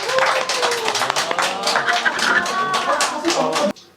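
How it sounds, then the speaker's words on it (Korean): A church youth gathering audience claps after a testimony, a close, lively burst of many hands with individual claps audible and voices mingling, continuing strongly before cutting off abruptly near the end. "박수."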